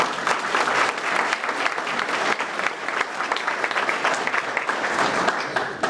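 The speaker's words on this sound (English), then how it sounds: "let's give Dennis a big round of applause for all of this" A business community audience at a chamber of commerce breakfast event gives a sustained round of applause, dense steady clapping filling the room from start to finish.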